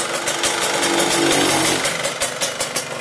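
A 1996 Yamaha RX King motorcycle engine runs steadily close by, a loud continuous mechanical drone with a fast knocking rattle and a few sharper ticks throughout.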